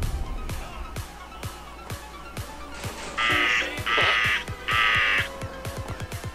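A crow in a GTA San Andreas flying-crow mod caws three times in loud, harsh bursts over a steady run of quick rhythmic ticks and game ambience.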